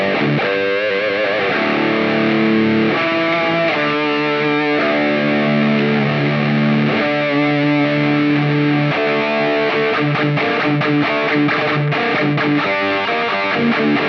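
An electric guitar plays heavy, high-gain riffs through a Compulsive Drive overdrive pedal, based on the Fulltone OCD, into an ANGL Meteor amp, loud and continuous with distorted chugging and sustained chords for the whole stretch.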